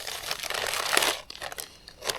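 Crinkling and crumpling of a Ziploc plastic bag holding leftover Spam at a solo camp, a close, continuous rustle with brief louder crunches, heard alone without talk.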